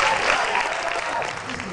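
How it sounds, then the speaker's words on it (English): An audience applauds at a live music night, a dense, steady wash of clapping with crowd noise mixed in and some voices faintly underneath. "give a warm round of applause"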